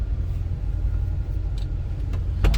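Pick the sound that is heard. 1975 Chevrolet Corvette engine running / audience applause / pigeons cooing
1975 Chevrolet Corvette engine running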